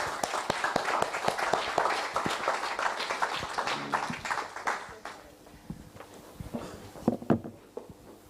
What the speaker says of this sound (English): A big applause for all the panelists